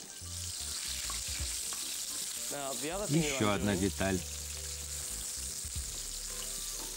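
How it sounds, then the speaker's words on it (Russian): Chopped onion sizzles steadily in a frying pan, a constant close hiss that runs the whole time, with a person briefly speaking over it partway through. "Я не буду класть его сразу, пусть лук еще немного поджарится."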